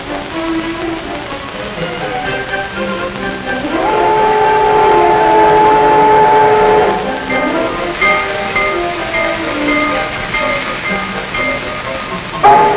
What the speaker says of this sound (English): There are still a large number of countries where steam locomotives are the only railroad engines being used.